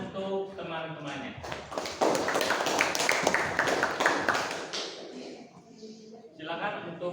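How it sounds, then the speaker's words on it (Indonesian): Classroom audience clapping for classmates during an open-class session, a dense steady patter of many hands that swells in the middle and fades, with voices talking over parts of it. "Beri tepuk tangan untuk teman-temannya."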